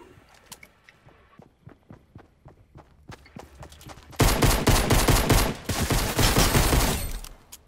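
Gunfire in a shooter video game: scattered single shots and footsteps, then a loud sustained burst of rapid automatic fire and explosions dominating the second half, with no speech.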